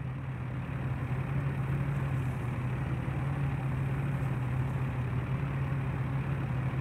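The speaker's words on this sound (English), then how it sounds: "This is a mortar half-track." A mortar half-track's engine idles in a video game, a steady low constant deep hum and faint rumble, unchanging throughout.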